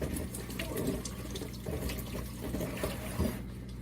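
Tap water runs steadily into a kitchen sink while eggs are rinsed under it before cooking a breakfast bowl, a continuous close splashing flow with no talk.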